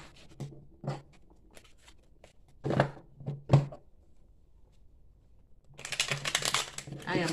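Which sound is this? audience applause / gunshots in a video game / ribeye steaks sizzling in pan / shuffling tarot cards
shuffling tarot cards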